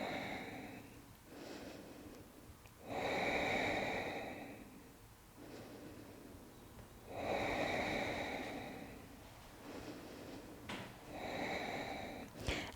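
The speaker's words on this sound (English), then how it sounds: "Keep breathing." Deep, slow breathing during a yin yoga down dog pose: long, audible inhales and exhales alternate in a steady rhythm, close and fairly soft, with quiet pauses between breaths and no speech.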